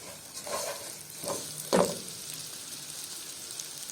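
Rice and peppers sautéing in a pan, faint sizzling with a few scraping stirs and one sharper clank of the utensil, quiet and close.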